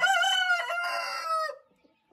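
A single loud, close crow or squawk of chicken fowl in a dacha coop sounds for about a second and a half, then stops.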